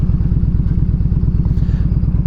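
A Harley-Davidson Evo Road King is ridden along an icy road, its engine giving a steady, loud, low rumbling thrum throughout with no break.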